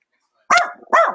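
A dog gives two short, loud barks close by, one right after the other, with no talk.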